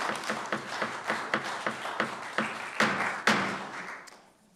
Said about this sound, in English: No more applause.